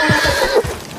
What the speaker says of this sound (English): Will you get a hold of that horse?